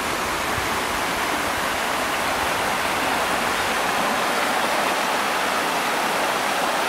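The River Ogmore roars steadily and loudly, a broad continuous wash with no breaks and no voices.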